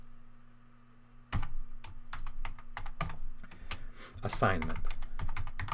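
Rapid, irregular clicking of fingers typing on a computer keyboard, with a person speaking over the keystrokes.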